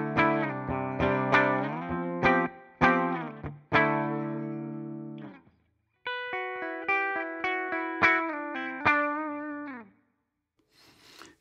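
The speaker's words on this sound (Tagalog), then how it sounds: "Clean sound lang na may konting reverb ang tunog." A clean electric guitar tone with a little reverb and the effects pedal off, played as two phrases of plucked notes and chords with a short pause between them and ringing decay at the end.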